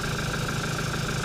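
A 2009 Toyota Hilux with the 1KD-FTV 3.0 litre diesel engine idles steadily up close, a constant rumbling drone with a faint rhythmic knock and no talking over it.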